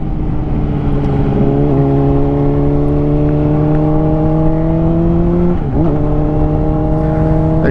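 A 2005 Honda CBR motorcycle on the road, engine loud and close with a strong steady tone that climbs gradually as it accelerates, then drops sharply at a gear shift and picks up again, with wind rush underneath.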